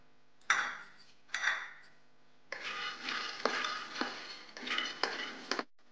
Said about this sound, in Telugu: తర్వాత పల్లీలు దోరగా వేయించుకోవాలి.